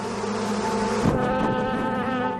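A dense, steady buzzing of a swarm of Africanized bees, loud and close, droning continuously with no voices.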